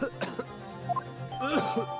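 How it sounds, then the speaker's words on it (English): A man coughs and clears his throat a few times, close and fairly quiet, with a tonal hum underneath, in the Ace Attorney game. "Stop coughing."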